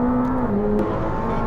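A McLaren 765LT pulls hard on a race track, its engine a steady high whine and roar that rises in pitch, heard from close by with no talk.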